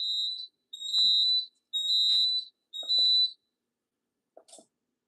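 Photoelectric smoke detector set off by a speaker strobe on a fire alarm demo system, sounding four loud shrill high-pitched beeps in a regular on-off pattern, followed by a brief faint sound.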